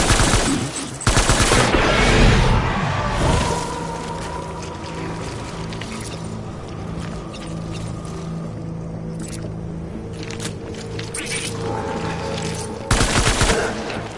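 Gunfire in the video game Death Stranding: loud bursts of automatic fire at the start and again near the end, with a steady droning rumble filling the stretch between.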